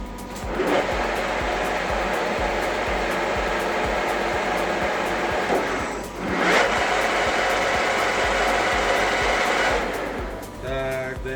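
A lathe cuts a thread with a single-point cutting tool, a steady loud motor whine with brief swells and scraping bursts as each pass bites into the metal.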